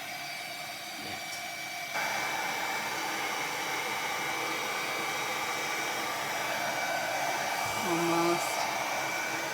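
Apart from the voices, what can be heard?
hair dryer drying paint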